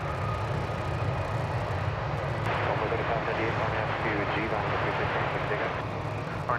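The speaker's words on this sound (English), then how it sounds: "We're going to take a look at this Max 8, which is taking off" A Boeing 737 Max 8 airliner taking off from Dallas-Fort Worth airport bound for Chicago O'Hare, a steady broad jet roar that holds loud throughout with no talk over it.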